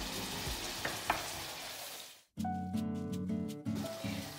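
Chicken livers sizzling and bubbling in a pan, a steady close crackle broken by a sudden cut, then a beeping electronic tone pattern over continued frying.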